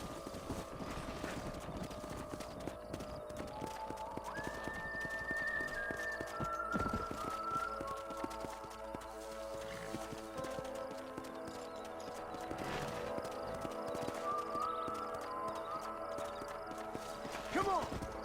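Horse hooves clip-clop at a rapid gallop in the video game Red Dead Redemption, a dense drumming kept up throughout, mixed with orchestral music and shouted voices.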